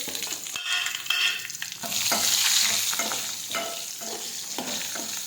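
Stuffed chillies dropped into hot oil with mustard seeds and cumin for a Gujarati marchanu shak, bursting into a loud, crackling sizzle with spattering pops and a few stirring scrapes, close up, no talking.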